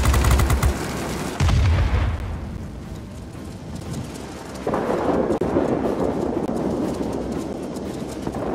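Thunder from a thunderstorm in the flight combat game World of Warplanes: deep rumbling booms open the clip, the loudest bursts near the start and another swell midway, followed by a sustained low roar with no voices.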